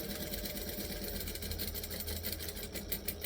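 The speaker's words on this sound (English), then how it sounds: "I'm just going to stitch around that edge" A sewing machine stitches around the edge of a fabric backpack, a quiet, steady mechanical whir with fast regular stitching pulses, close and alone without talk.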